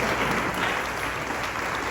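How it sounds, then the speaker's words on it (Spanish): A church congregation applauds the Lord during a Spanish-language sermon, a dense, steady wash of clapping from a full room that holds at even loudness, with no talk over it. "Vamos a darle un aplauso al Señor."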